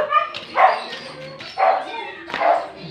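Several of the household's dogs bark in three distinct bursts spaced about a second apart, loud and close, with someone talking around them.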